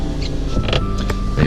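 Power window motor in a 1984 Mercedes-Benz 380SL R107 whirring as the glass moves, a loud, close, steady electric hum lasting the whole moment with no talk.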